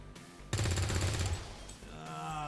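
An SMG in XCOM 2 Long War of the Chosen fires one short, loud burst of rapid shots that fades into low rumbling game ambience.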